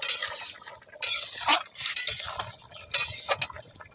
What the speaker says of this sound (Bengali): এবার ঢাকাটা খুলবো, একটু নেড়ে দেবো